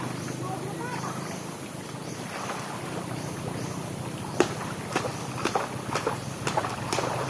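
Engine hum from boats on water drones steadily beneath wind and voices, with several sharp knocks or splashes in the latter half.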